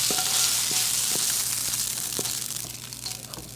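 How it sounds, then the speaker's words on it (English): Shrimp stir-fry in canola oil in a hot wok, a loud, close, continuous sizzle with occasional scraping stir sounds. "Now we're going to start stir frying."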